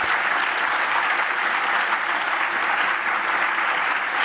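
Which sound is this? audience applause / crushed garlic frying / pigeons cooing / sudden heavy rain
audience applause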